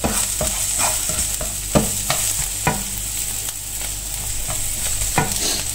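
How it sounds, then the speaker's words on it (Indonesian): Onions sizzle steadily in a frying pan for fried rice while a spatula scrapes and stirs them in regular strokes, close and alone. "Aku tumisin bawangnya dulu."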